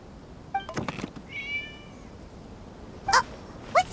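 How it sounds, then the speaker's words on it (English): A cat meowing in the game Genshin Impact, two or three short mews over a low ambient hum, preceded by faint soft knocks and a brief chirpy whistle. "It was just a cat."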